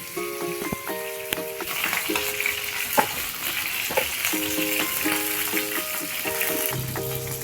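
Fish fries in hot oil in a tight-fitting pan, a steady loud sizzle and crackle running throughout with occasional spoon or pan knocks and scraping, no voices.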